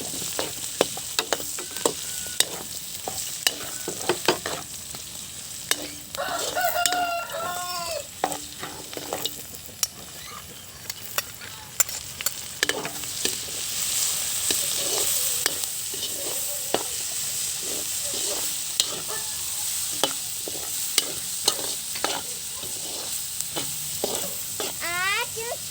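Garlic and onion sautéing in a hot pan outdoors for a coconut-milk santol dish, a steady near sizzle with frequent stirring scrapes and clicks running throughout, no talk.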